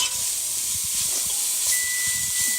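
Shrimp stew cooks down in a pot with little oil, giving a steady, close hiss and gentle simmering sizzle that holds evenly throughout, with faint low bubbling underneath.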